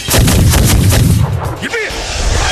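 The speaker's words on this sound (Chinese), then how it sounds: "开火！" Loud, close gunfire fills a Chinese war film battle scene of Eighth Route Army fighters ambushing Japanese troops. A dense rapid volley of shots is followed by continuing scattered fire.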